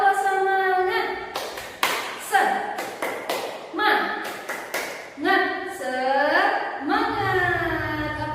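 A primary-school class and teacher perform a rhythmic 'tepuk semangat' clapping chant, with sharp bursts of clapping in patterned groups woven between loud, sung-out voices.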